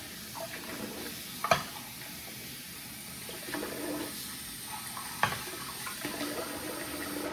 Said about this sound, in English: So when I rinse this bowl out, in fact, let's see. Let me rinse that.